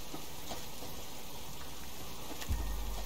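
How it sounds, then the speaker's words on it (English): Steady rain falls in the survival game Subsistence, a soft, continuous wash of patter at low level with no break, and a faint low rumble joining near the end. "Should I go out in the rain?"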